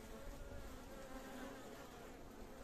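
Bees buzzing steadily around a hive where a queen has just returned from her mating flight, a dense, even hum with no pauses, close and moderately quiet.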